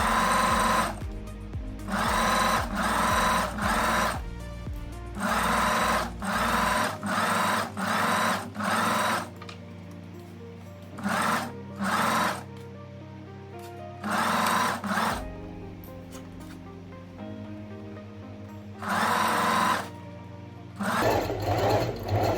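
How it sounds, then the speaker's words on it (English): A sewing machine stitches around a dress pocket bag in repeated loud, close bursts of rapid mechanical whirring, each lasting one to three seconds, separated by quiet pauses while the fabric is turned. "I can stitch now all the way around my pocket bag"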